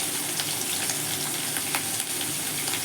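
Ginger and green chili paste frying in hot oil for doi potol, giving a loud, steady sizzle with small crackles scattered throughout, close up and without any voices.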